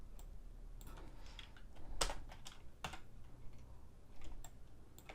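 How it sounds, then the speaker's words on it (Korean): Computer keyboard used while editing a product rendering of an electric kettle in Photoshop: a few close, crisp key clicks and presses, scattered and irregular, over faint room hum with no talk. "컨트롤 엔터를 눌러서 또 여기를 또 마무리를 합니다"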